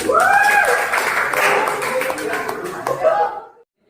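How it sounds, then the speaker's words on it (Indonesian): Classroom applause from students after a physics discussion lesson on temperature: a dense, loud burst of clapping mixed with cheerful voices and chuckles, fading out near the end. "Kita beri aplaus untuk"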